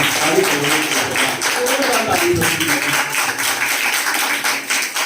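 A church congregation breaks into dense, sustained applause, many hands clapping at once for several seconds, loud and close.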